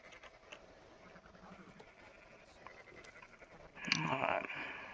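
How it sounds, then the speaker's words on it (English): Sheep bleat in the Red Dead Redemption video game, a few faint, short, wavering calls over a quiet background, followed by one louder, harsher bleat near the end. "Those sheep are making some funny ass noises."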